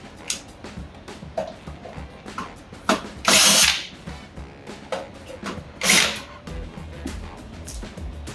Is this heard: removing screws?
yes